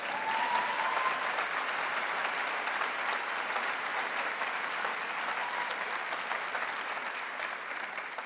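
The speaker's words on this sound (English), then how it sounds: "You can give me a clap for that bit." Sustained applause from a large audience at a UK Labour Party annual conference in Liverpool, a dense, steady wash of many hands clapping at even volume throughout with no speech over it.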